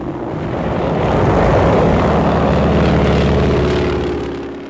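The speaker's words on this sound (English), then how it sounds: "Low-flying planes strafe the enemy." Low-flying propeller warplanes roar past in 1945 wartime archival film, a heavy drone that swells to a loud peak midway and then fades, with no voices over it.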